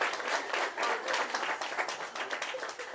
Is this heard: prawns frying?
no